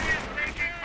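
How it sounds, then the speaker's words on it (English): Gunfire and cannon fire rattle through a WWII strategy video game battle, with mortars falling and anti-tank guns firing. Short repeated shots and bursts stay fairly steady under a busy, continuous din of battle throughout the clip. "Riflemen though getting mortared and now getting shot up by the false cannons while they're suppressed"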